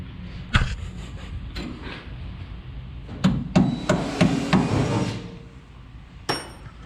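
Hammer blows while installing front disc brakes on a 1966 Ford Mustang 289 during a disc brake conversion, a single sharp strike followed later by a quick series of metallic hits, then one final knock, close and loud.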